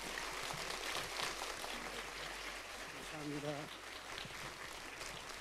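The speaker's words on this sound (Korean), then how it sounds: "우리 이지웅 목사님 박수로 좀 환영해 주세요." A church congregation applauds to welcome a pastor at a Friday night service, a steady, dense wash of clapping throughout, with a brief voice heard partway through.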